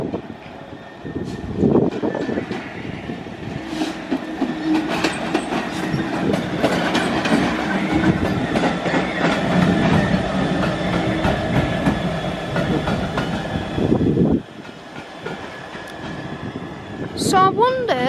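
A train rolls through Crewe station in the rain, a loud sustained rumble with rhythmic wheel clatter lasting most of the passage before cutting off sharply, with a person talking nearby.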